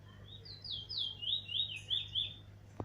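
A brown bird sings a series of clear, rising and falling whistled phrases, fairly close and alone, ending with a short sharp tap or click.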